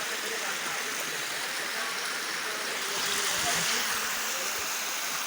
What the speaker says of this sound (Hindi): ये छोटी सी वाटरफॉल चल रही है